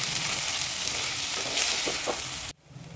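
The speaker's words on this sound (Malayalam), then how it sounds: "നമ്മൾ ചതച്ച് വെച്ചിരിക്കുന്ന ഉള്ളി, ഇഞ്ചിയും, വെളുത്തുള്ളി ഇട്ട് നന്നായിട്ടൊന്ന് വഴറ്റിയെടുക്കുക" Crushed onion, ginger and garlic sautéing with curry leaves in hot oil, a dense continuous sizzle up close that cuts off abruptly near the end, leaving only faint low background.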